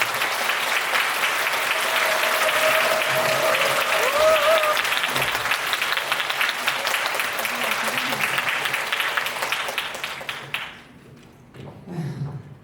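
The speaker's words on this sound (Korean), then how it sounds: "큰 박수로 맞아주시면 감사하겠습니다" Lecture audience applauding to welcome the next speaker at a winter camp talk, a dense sustained clapping that fills the hall for about ten seconds, then thins out and fades, with faint murmurs at the end.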